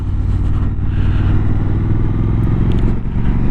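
Triumph Scrambler 1200 XE motorcycle being ridden, its 1200 engine giving a loud, steady, low rumbling drone that holds throughout with slight clatter and no pauses.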